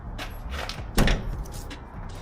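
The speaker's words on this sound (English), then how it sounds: "Can open all the doors." Doors on a camping van with an awning being opened, giving a few rattling clunks and a sharper latch bang near the middle over quiet background noise.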